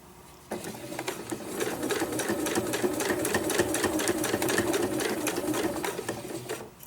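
A sewing machine stitching a sewing roll, starting abruptly and running in a steady rapid needle rhythm up close, then slowing and stopping near the end.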